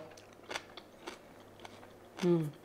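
Crunchy pickled onions in balsamic vinegar being bitten and chewed, a few soft crisp crunches spread through the clip, then a louder burst near the end, close to the mic.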